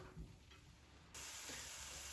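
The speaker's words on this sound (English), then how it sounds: "That's the sound of a sizzle." A steady hiss of vegetables sizzling in a hot pan for a lamb ragu, growing louder partway through and continuing without any talk.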